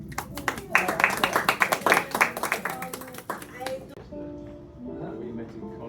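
Guests at a dinner in a fine-arts gallery clap together, a close burst of rapid handclaps that swells for about three seconds and then fades as a voice starts talking.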